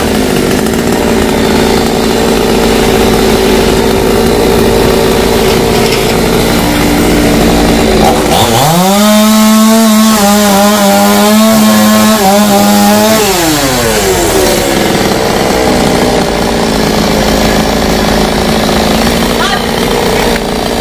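A chainsaw pruning the broken branches of a 200-year-old Sộp fig tree roars loudly and continuously, the engine rising to a high whining rev in the middle as it bites into the wood, then easing back.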